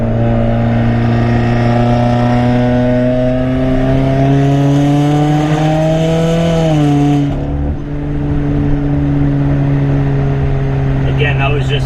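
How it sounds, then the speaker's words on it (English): A tuned 2017 Subaru Forester XT running on E50 fuel accelerates through the gears with a steady engine drone that climbs, then drops at a shift, followed by a light turbo flutter, heard from inside the car. "I don't know if you guys can hear that little turbo flutter"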